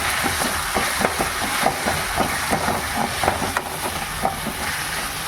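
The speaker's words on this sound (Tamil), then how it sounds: "தக்காளி வெங்காயத்தை கைவிடாமல் கிண்டிகிட்டே இருங்க" Tomatoes and onions sauté in a pan for sambar, giving a steady hiss and sizzle with repeated scraping and stirring taps against the pan throughout.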